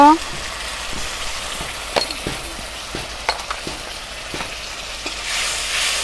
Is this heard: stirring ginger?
yes